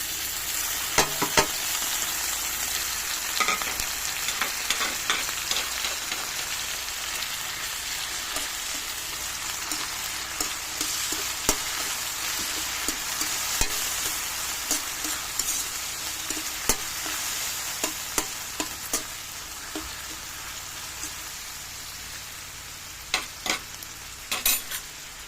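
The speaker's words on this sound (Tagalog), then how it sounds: "Mix natin guys yung corn beef." Corned beef being mixed and sautéed in a pan, a continuous bright sizzle with frequent scraping and clicking stirs throughout.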